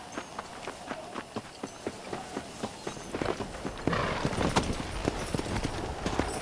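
Hooves of a horse galloping in the Red Dead Redemption video game on Xbox One, a steady rapid clip-clop that grows louder and denser toward the end, with no talking.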